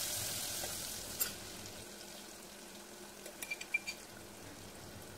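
Ingredients with slit green chilies and salt fry in a pan on very little oil, a soft continuous sizzle with a cluster of faint stirring clicks toward the end.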